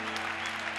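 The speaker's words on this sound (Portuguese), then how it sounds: "Dê uma salva de palmas a Jesus e tome o seu assento, glorificando a Ele." A church congregation at a Portuguese-language worship service applauds together, a brief steady burst of many hands clapping over a low hum in the hall.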